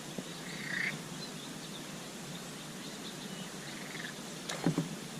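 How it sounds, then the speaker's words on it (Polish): Frogs croak in a chorus against a dense, hissing outdoor background on a kayak trip in Puszcza Notecka, Poland, with a couple of louder nearby croaks and a sharp knock near the end. "Żaby kumkają z czymś."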